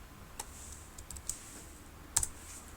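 Keys clicked on a computer keyboard while a sum formula is entered into a spreadsheet, a few sparse, faint taps spaced over a couple of seconds in a quiet room.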